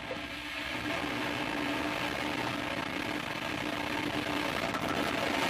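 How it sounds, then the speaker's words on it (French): Ariane 5 rocket at launch as its Vulcain main engine ignites: a dense, steady broadband roar that holds at constant loudness throughout with no pauses. "Allumage moteur Vulcain."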